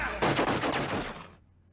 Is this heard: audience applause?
no